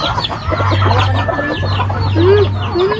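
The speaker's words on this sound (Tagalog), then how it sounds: "Mga manok." A flock of chickens clucks steadily up close, with a rooster-like call rising through the chatter over a low droning background.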